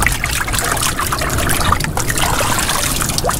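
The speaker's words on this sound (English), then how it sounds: "I'm gonna rinse it out right here in the water." Seawater trickles and splashes steadily while a large cracked Dungeness crab is rinsed out among the rocks by the shore, the sound close and continuous with no talk.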